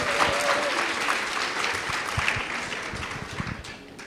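A conference audience gives a warm round of clapping for Jim Clyburn as he leaves the stage, the dense applause steady at first, then gradually softening toward the end.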